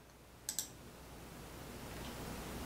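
Two quick mouse clicks close together on a Windows 11 computer, faint against a steady background hiss, followed by silence with no talk.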